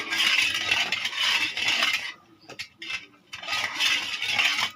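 A spoon stirring Tang drink mix in a glass, rapid continuous metallic clinking and scraping close up, pausing briefly midway before resuming just as busily.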